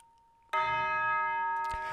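A single isolated bell sample from a music track rings out after a short pause, a sustained tone with rich overtones that hangs and slowly decays, with a second soft strike near the end.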